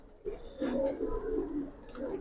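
Giribaz pigeons at a pigeon seller's stall give a low, rolling coo lasting about two seconds. The sound is moderately close, with faint chirps and a quiet background and no talk during the call.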